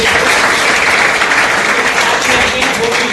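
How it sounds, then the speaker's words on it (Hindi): An audience at a public event claps loudly and continuously, a dense, even wash of applause filling the whole stretch with no pause. "उनके लिए एक बार जोरदार तालियां"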